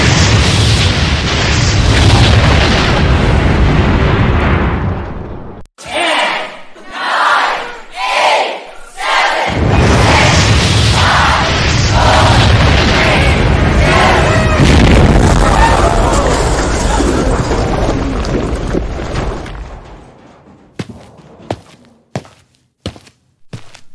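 Rocket launcher blast hitting the Times Square New Year's Eve ball drop in an animated cartoon, a loud sustained roaring explosion with crowd-like noise, a few booming pulses midway, then fading into scattered thuds.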